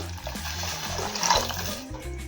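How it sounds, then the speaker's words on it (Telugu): Water pours steadily into a pot of tomato-tamarind rasam with a continuous splashing rush that swells briefly midway, close by, with no talking. "చారుకు కావాల్సినంత వాటర్ యాడ్ చేసుకుందాం"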